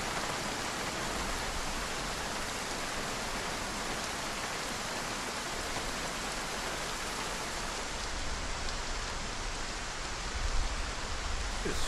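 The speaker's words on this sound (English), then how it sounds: "No way you'd be able to do any of this in this kind of rain." Heavy rain pours steadily in a video game, a dense continuous hiss of falling water with no breaks, holding an even level throughout with a faint low thump near the end.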